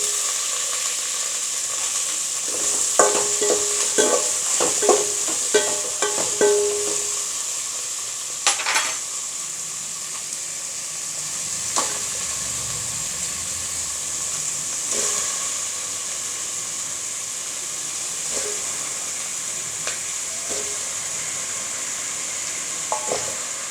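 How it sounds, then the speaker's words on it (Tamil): Chopped vegetables for avial are stirred in a hot pan, clusters of spoon scrapes and clinks over a steady sizzle and hiss of steam, with occasional sharper knocks later on. "இந்த காய்கறியெல்லாம் போட்டு நல்லா கிண்டிக்கோங்க"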